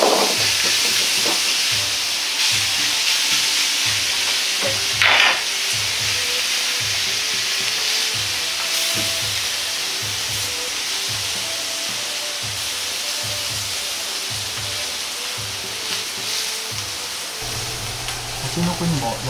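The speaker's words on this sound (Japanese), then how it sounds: "肉を焼きすぎると硬くなるのでタケノコの上に乗せて焼きます。" Pork and bamboo shoots sizzling in a pan for ginger pork, a steady, close frying hiss with faint rhythmic ticking underneath and occasional spatter, continuing alone throughout.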